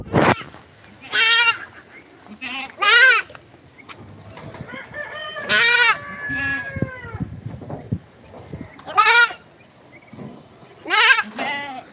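Goats bleat in a farmyard with poultry, a series of loud, wavering cries spaced a second or two apart, some overlapping and near, with quiet pauses between.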